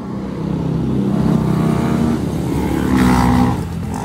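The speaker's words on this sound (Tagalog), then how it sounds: "Bolt on only to. Napakatahimik na makina." A Yamaha Sniper 155 motorcycle with bolt-on parts only runs close by, its engine giving a loud, steady hum that rises briefly in pitch toward the end.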